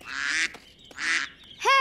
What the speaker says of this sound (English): Hey, stop that, you ducks.